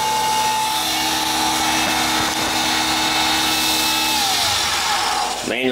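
A CNC mill spindle whines steadily under Mach3 control during a manual tool change, a loud continuous motor tone that drops and spins down near the end as the spindle is switched off.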